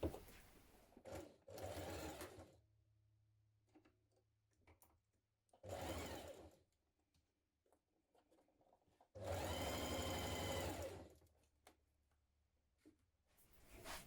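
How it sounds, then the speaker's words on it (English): A sewing machine stitches a double stretch seam on a jumpsuit in three separate bursts of close, whirring needle clatter, the last and longest one around four seconds. Quiet gaps with faint handling noises fall between the bursts. "You want to stitch this with a double stretch seam again, or a double zigzag seam."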